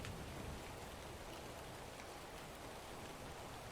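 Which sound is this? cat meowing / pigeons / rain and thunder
rain and thunder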